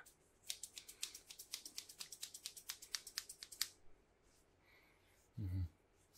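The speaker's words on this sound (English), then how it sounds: "You like the sound of scissors?" Scissors cutting hair during an ASMR haircut, a quick rhythmic series of close, crisp snips for several seconds, then quiet and a brief low thud near the end.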